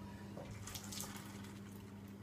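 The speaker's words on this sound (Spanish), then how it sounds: "Echamos un poco de agua." Water pours from a tap while someone washes dishes, a faint, steady splashing hiss that runs throughout.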